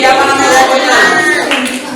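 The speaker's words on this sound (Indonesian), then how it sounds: "Tepuk tangan untuk kelompoknya Rizky" A classroom group claps for a student group after a discussion presentation, loud close applause with children's voices over the clapping.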